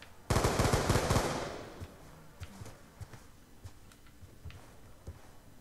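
Burst of rapid automatic gunfire in the Black Ops 2 Zombies video game, a loud close volley of about a second that rings out and fades, followed by scattered faint single shots and taps.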